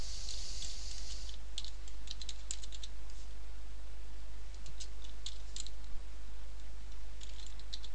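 Steady clicking of computer keyboard keys being typed on, close and continuous, with a constant low electrical hum underneath and no voices.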